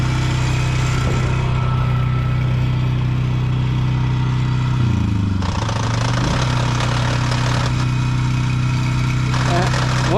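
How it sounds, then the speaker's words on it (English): A junk-removal work vehicle's engine idles steadily up close, rising briefly in revs as throttle is applied, then settling back, with people talking over it. "Now I'm gonna just give it a little bit of throttle right here."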